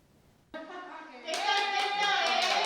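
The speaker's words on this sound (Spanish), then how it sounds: "Aplausos mutuos entre sanitarios y residentes para echar el cierre al balneario de Fitero como centro residencial." Health workers and elderly residents applaud each other at the Fitero spa, which served as a coronavirus care residence, with rhythmic group clapping that starts up and grows alongside voices calling out and cheering.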